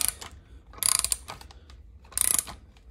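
Puller tool drawing a pulley off a 5.3 LS V8 engine during a stage 2 cam install, with two bursts of rapid ratcheting clicks separated by quieter mechanical creaks and taps, close by.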